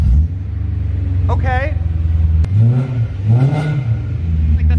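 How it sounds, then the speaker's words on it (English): An old car that has sat unused for a long time cranks, catches and revs several times through its current exhaust, each loud rising vroom falling back to a rough rumble, with a brief spoken word near the start. "This car hasn't been started in forever. Let's see if it'll start with the current exhaust setup."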